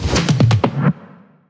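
A punchy drum fill from a melodic dubstep drop rolls through a quick run of about six heavy hits, booming low end under bright transients, then cuts off and rings out briefly.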